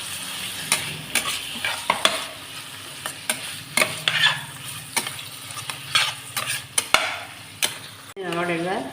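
Chicken sautés in a pan with curry leaves for pepper chicken, a steady sizzle under repeated scraping stirs. A brief voice appears at the very end.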